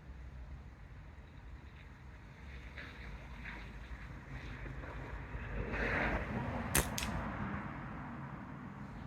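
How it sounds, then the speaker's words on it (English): Blustery wind sweeping across an outdoor rifle range, a steady low rumble of buffeting against the microphone that swells in gusts toward the end, with one sharp click near the close. "we're definitely getting a little bit of left to right wind out there"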